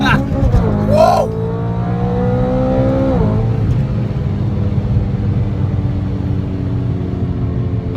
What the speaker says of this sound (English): Those sounds are nice when you slightly bounce off the limiter.